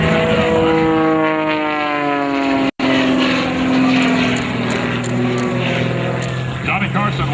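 A propeller-driven aerobatic airplane performs at an airshow, and its engine drone rises and falls in pitch as it swoops overhead. A steady hum of noise runs beneath it, broken by one sharp click.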